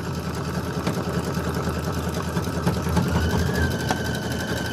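Sewing machine stitching a satin stitch design, a steady fast mechanical whir with rapid needle rhythm, close and continuous, heard alone.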